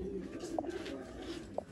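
Rare breeder pigeons in Rawalpindi coo softly, with two short, faint calls about a second apart over quiet background murmur.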